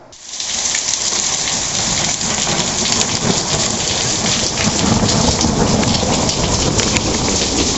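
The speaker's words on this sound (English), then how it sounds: "the crazy thunderstorm we were having" A heavy thunderstorm pours down, loud dense rain drumming on surfaces with rolling thunder rumbling underneath, continuous and close throughout.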